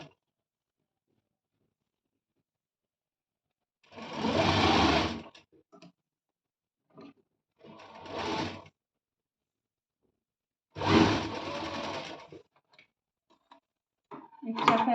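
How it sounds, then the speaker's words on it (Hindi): A sewing machine stitches velvet fabric for a blouse in three separate bursts of rapid whirring and clatter, each a second or so long, with quiet pauses between them. "फोल्ड लेने के बाद यहाँ से मैं स्टिचिंग स्टार्ट करूँगी 1/2 इंच की दबाव लेते हुए।"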